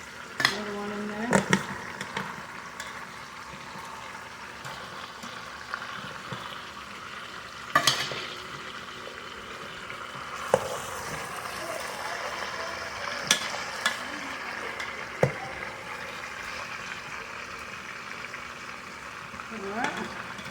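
Pork for carnitas sears in a pan with a steady, close sizzle, broken by occasional knocks and scrapes of a utensil stirring the meat.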